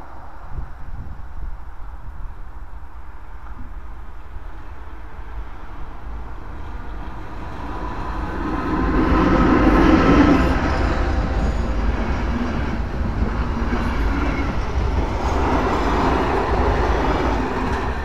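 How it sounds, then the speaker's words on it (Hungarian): Class 282 Szili electric locomotive hauling an InterRegio passenger train passes by, a rumbling roar of wheels and carriages that swells midway and stays loud to the end. "a 282-es Szili elhaladt Vizipók Interrégió vonatával"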